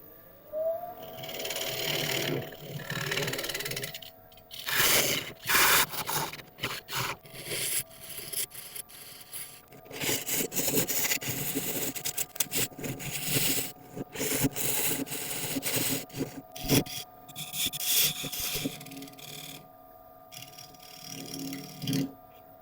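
A lathe turns a recess into a block of very hard greenheart wood, giving a continuous scraping, rubbing tool cut with a steady tonal hum underneath and uneven bursts as the tool bites.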